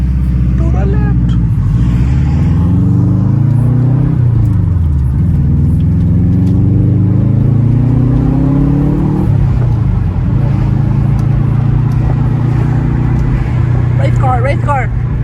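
A Subaru Forester with a catted downpipe revs and pulls away in a drive, its engine note rising and falling loudly and continuously while people talk over it.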